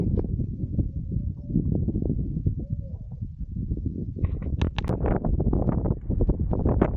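Strong gusty wind at Mandumariamman Temple in Krishnagiri buffets the microphone in low rumbling bursts, with a few sharp knocks and faint distant tones.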